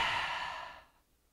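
A single forceful breath pushed hard out through the mouth during pranayama breathing in a yoga session, a close airy rush that starts strong and fades away within about a second.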